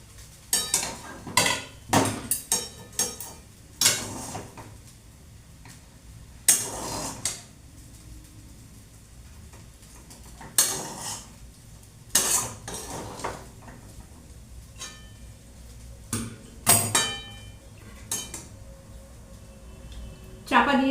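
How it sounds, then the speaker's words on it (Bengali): Ghee is stirred into atta chowmein in a pan with the gas off, producing sporadic metallic scrapes and clinks of a utensil against the pan, separated by quiet gaps while someone talks. "ঘিটা আমি মিশিয়ে নিই।"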